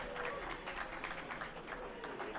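Scattered audience clapping at a wrestling show greets the announce team, fairly faint and thin with some crowd murmur mixed in, steady across the short stretch.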